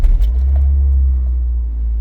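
A cold 2003 Toyota Corolla engine catches right at the start and settles into a steady, deep, loud idle rumble that continues unbroken, with no voices.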